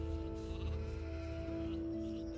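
Sheep bleating on a farm in the video game Gothic II, a few drawn-out wavering calls over a steady low background hum, moderately faint and without talk.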